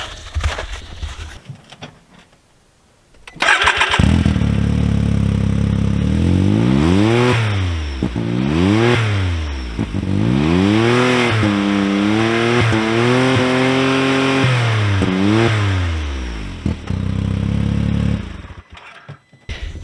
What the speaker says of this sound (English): that Trinity Stage 5 exhaust, check that out, you guys